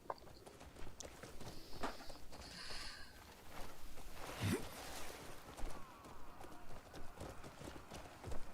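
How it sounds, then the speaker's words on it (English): Video game horse hooves clip-clop at a walking pace, fairly close, with a soft whoosh and light background noise. "Alright, let's call my horse."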